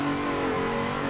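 Steady, continuous engine drone of a BMW drift car in the Assetto Corsa simulator game, held at a constant loud pitch with layered harmonics and no talk over it.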